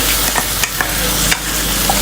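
Ground spice paste for free-range chicken rendang hits hot oil and sizzles loudly and steadily up close, with a few scraping stirs and pops in the pan and no one speaking.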